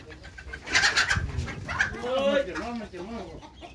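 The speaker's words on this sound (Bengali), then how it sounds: "এগুলা খামারের বড় মুরগিগুলা এগুলা ডিম পারছে" Egyptian Fayoumi chickens and native hens on a farm, with several birds clucking and cooing up close in a short busy stretch, their calls overlapping in a lively flock chorus.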